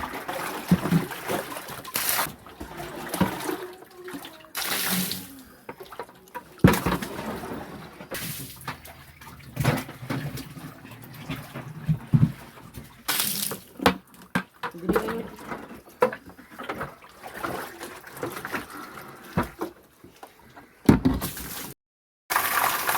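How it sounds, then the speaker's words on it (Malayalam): Leftover water is scooped by hand out of an aquarium fish tank, giving intermittent splashes, trickles and dribbles with short pauses and clunks between them, at moderate loudness and close by. "നമ്മൾ ഇപ്പോൾ ബാക്കിയുള്ള വെള്ളം കൂടി നമ്മൾ കോരി കളയാൻ പോവാണ്"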